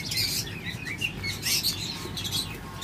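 Pet lovebirds and cockatiels chirp together in a dense, continuous chorus of overlapping high tweets, near and fairly loud, with no voices.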